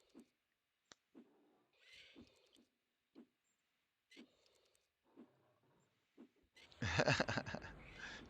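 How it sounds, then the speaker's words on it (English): A pet cat indoors gives a string of short, soft meows at roughly one-second intervals in an otherwise quiet room, ending with a louder burst of mixed noise. "Petting the cat off to the side while he's blocking half my screen."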